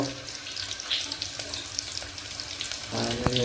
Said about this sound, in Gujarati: આપણે લસણનો વઘાર કર્યો